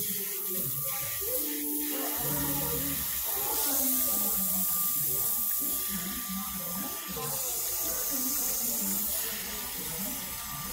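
Tap water runs continuously at a salon basin while hair is washed in a hairstyling class, a soft hiss and splash beneath intermittent talking.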